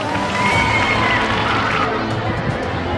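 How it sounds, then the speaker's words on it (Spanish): Dense applause rises from the audience at a children's kenpo demonstration, a steady broadband wash of clapping mixed with crowd murmur and a few children's shouts. "Aplausos por favor."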